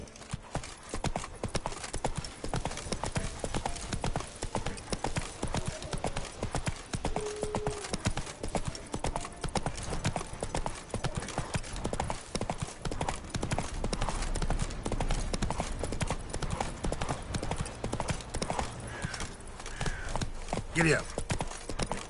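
A horse in the video game The Witcher 3 gallops in a fast, steady clip-clop of hooves that runs without a break, loud and close, with a short whinny near the end and a voice over the hoofbeats.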